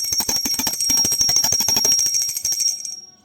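A small brass prayer bell rung rapidly during a puja offering, a bright sustained ringing with quick repeated strikes that carry on for about three seconds before fading out, with no talking.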